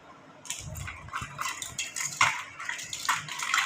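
Tarnished silver jewelry scrubbed with sand like washing dishes, close metallic clinks, gritty rubbing and faint water splashes in irregular bursts, fairly quiet and without talk.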